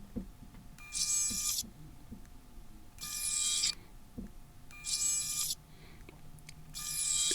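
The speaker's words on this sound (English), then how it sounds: "just in case y'all want to see that pop-up selfie cam one more time" Motorola One Hyper smartphone pop-up selfie camera motor whirring up and down in four short buzzy bursts, close and clear, separated by brief quiet gaps with faint handling clicks.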